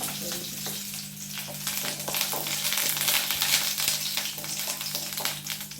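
Garlic frying in oil for coconut powder crackles and sizzles continuously at moderate volume, with light stirring scrapes throughout and no talking.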